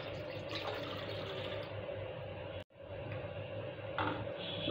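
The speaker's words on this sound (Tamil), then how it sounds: "அதில் 2 கிளாஸ் தண்ணி ஊற்றிக்கலாம்" Water pours steadily into an idli steamer pot, a continuous close splashing stream with one brief break midway before resuming.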